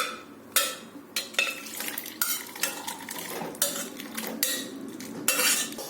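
Boiled soybean dal is spooned from a pot into a bowl, with a steel spoon clinking and scraping against the vessel in irregular bursts, close and clear with no talking.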